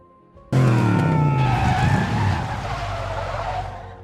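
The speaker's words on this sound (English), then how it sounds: "starts drifting all over the place to get rid of his anger" A car drifts all over the road, its tires squealing and skidding loudly and continuously for several seconds under a roaring engine, with no talking.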